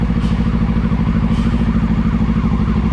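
A motorcycle idles and creeps through heavy traffic near a skyway toll gate at midday, a steady low engine rumble with faint clatter, close and continuous, no talk.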